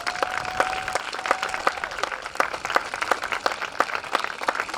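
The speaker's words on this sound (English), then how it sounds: "Give her a round of applause" Steady applause from an audience, a dense patter of many hands clapping at even volume throughout.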